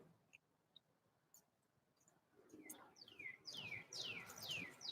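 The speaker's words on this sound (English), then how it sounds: "I can hear some birdies right now." Small birds chirp outdoors on a spring morning near snowdrop flowers, giving faint calls at first and then a quick run of louder, sweeping tweets close by.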